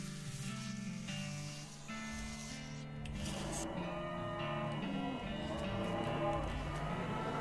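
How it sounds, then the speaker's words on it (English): Ominous cow mooing plays as a video game sound effect: low, drawn-out moos swell over a steady, dense ambient backdrop that builds in loudness. "You hear ominous mooing."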